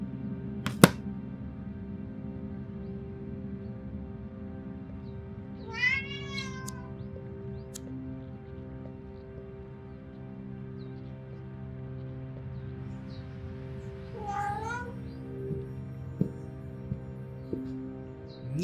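Two separate cat meows sound from the Vertigo video game, one near six seconds and another near fourteen, each short and clear over a steady low musical hum, with a brief sharp tap at the start.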